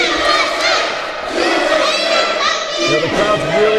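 A wrestling arena crowd in Hanford chanting "USA," loud rhythmic massed voices echoing through the venue with shouts layered over the chant.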